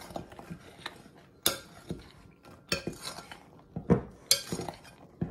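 Pecans stirred into scone ingredients in a bowl give off scattered clinks and scrapes of a utensil against the bowl, with several sharper knocks, all close and fairly quiet, with no talking.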